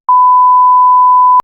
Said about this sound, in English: I will beep that out.